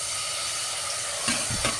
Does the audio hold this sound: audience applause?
no